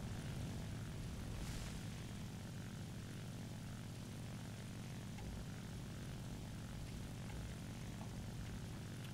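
Steady droning propeller engine of a Soviet ground-attack aircraft in War Thunder, a loud continuous hum filling the whole stretch with no voices over it.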